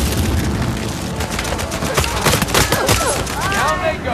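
Bursts of gunfire and booming impacts in an Uncharted 4 multiplayer match, dense rapid shots layered with game sound effects, loud and close throughout.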